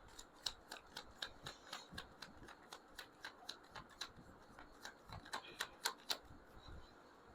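Tarot cards being shuffled by hand, a quick rhythmic run of crisp snapping riffles repeated many times in a row, close and fairly quiet.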